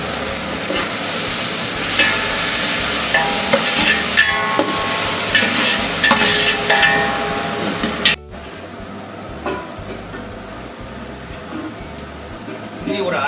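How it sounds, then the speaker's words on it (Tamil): Coriander and salt sauté in a large pot for chicken biryani for 50 people, sizzling steadily under scraping stirs and clanks of a utensil. A person talks over it, and the sizzle drops off sharply partway through. "இதை ஒரு வதக்காம உப்பு போட்டோம்னா கொஞ்சம் சீக்கிரம் வதங்கும்."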